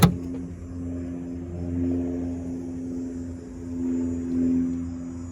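A car idles and rolls slowly as it pulls over to the roadside, giving a low, steady engine hum from inside the cabin with gentle swells in revs and no talking.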